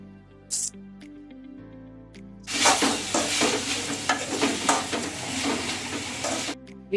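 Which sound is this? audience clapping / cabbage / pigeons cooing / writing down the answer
cabbage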